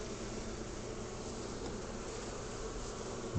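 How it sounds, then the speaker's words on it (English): Honeybees clustered at the front of a top bar hive give off a dense, steady buzz that holds at an even level throughout, close by and with no voices. "Bearding is when they hang out on the front of the hive, they cluster on the front of the hive."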